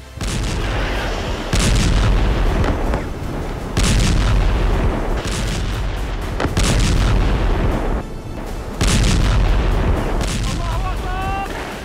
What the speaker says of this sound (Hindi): सातवें दिन भी इसराइल का एक्शन धमाकों के साथ जारी है